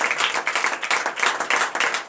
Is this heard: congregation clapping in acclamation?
yes